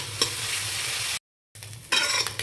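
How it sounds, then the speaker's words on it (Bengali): Chicken and prawns frying in a pan for mixed chowmein, stirred with close scraping strokes over a steady sizzle, broken by a brief total silence before the frying and stirring resume. "তারপর ঢাকাটা খুলে একটু নাড়াচাড়া করে দিচ্ছি"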